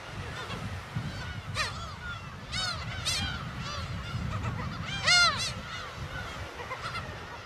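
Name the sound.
black-tailed gull calls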